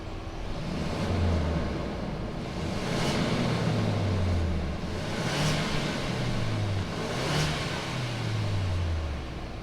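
A 2019 Ford Ranger XLT's 2.3-liter EcoBoost engine idles steadily and revs in three or four repeated swells, each rising and falling, close by and with no talk.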